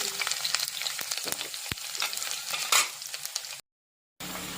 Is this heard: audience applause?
no